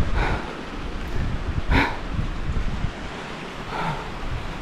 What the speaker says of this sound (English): It's amazing that the water just keeps running and running